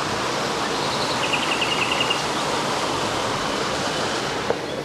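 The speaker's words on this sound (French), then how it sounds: "Il y a une petite arrivée d'eau là," A small inflow of water runs into a river, producing a steady, broadband rush of flowing water that stays constant and fairly close for the whole stretch, with no voices.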